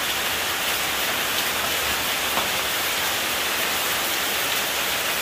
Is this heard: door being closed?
no